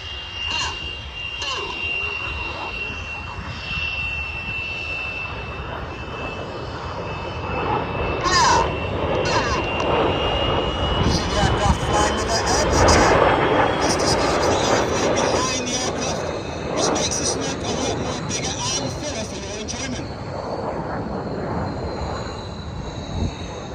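Red Arrows jets roar through the Rollbacks manoeuvre at the 2022 Danish Airshow, a steady broadband engine rush that swells mid-pass with a whining tone, heard at a distance over crowd ambience.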